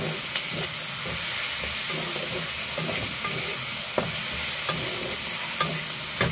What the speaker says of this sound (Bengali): পেঁয়াজ, ক্যাপসিকাম, টমেটো সব দিয়েছি, দিয়ে একটু ভাজা ভাজা করে নিয়ে এটা এই মশলাটা গোলা আছে দিয়ে দেবো